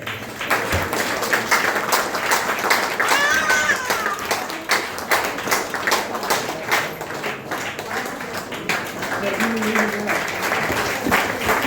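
An audience at a Northern Railway retirement ceremony in New Delhi applauds with steady, dense clapping that continues at an even level throughout.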